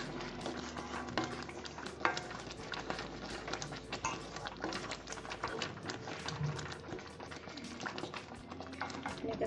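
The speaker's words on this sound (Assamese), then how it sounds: "এনেকৈ মাজে মাজে লৰাই থাকিব।" A spoon stirring matar paneer curry in a pan, with steady scraping and clinking over a soft simmer and sizzle, close and continuous without voices.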